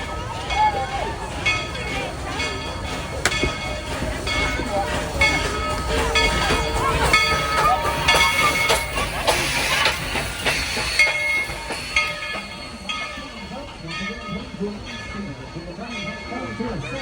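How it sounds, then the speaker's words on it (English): A Tweetsie Railroad train pulls in during a July 4th outing, its loud rumble and clickety-clack of rolling cars running steadily close by, with people talking and crowd babble over it throughout. "we're ready for a train ride"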